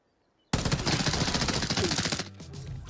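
Automatic gunfire from a Vector in Arena Breakout Infinite, a sudden loud rapid burst after brief silence that rattles on for nearly two seconds before trailing into quieter echoes and movement.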